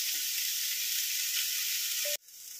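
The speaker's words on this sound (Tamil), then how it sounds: "இது கொஞ்ச நேரம் நல்லா வதக்கி விட்டுட்டே இருங்க." Onion and capsicum sauté in a hot pan, giving a steady, close sizzle that holds evenly for about two seconds and then cuts off abruptly, leaving quieter room tone.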